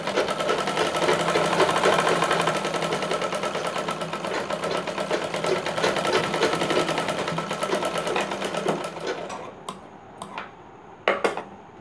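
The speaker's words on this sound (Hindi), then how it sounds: "फिटिंग की सिलाई चलानी है।" A sewing machine stitches the fitting seam of a katori blouse, a loud continuous rattling run that slows and fades near the end, followed by a few short clicks and taps.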